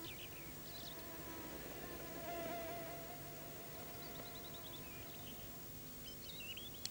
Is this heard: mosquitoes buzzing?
yes